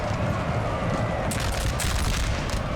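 Musket volleys from massed infantry lines in a Napoleon Total War battle, a dense crackling roar of overlapping shots, loud and sustained, with sharper bursts of firing joining in partway through.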